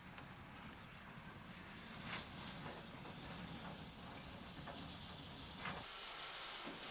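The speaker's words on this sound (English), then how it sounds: "The locomotive takes water at Castlecomer" A 1950s Irish steam locomotive takes on water at Castlecomer. It gives a continuous faint hiss of steam with a low rumble, broken by a few sharper clanks and bursts, distant and muffled, with no voices.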